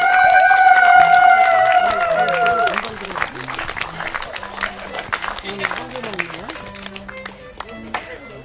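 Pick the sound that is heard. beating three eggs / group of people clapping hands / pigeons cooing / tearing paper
group of people clapping hands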